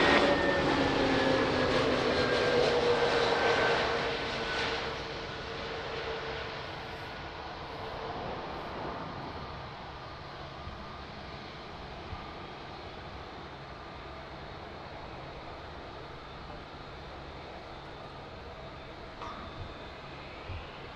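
A jet airliner lands on runway 02 at Lisbon Airport, its loud engine roar and falling whine fading after touchdown into a steady distant rumble of rollout; no voices.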